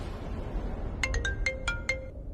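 A phone ringtone plays a short bright melodic phrase of several quick notes, clear and alone over faint room background with no speech.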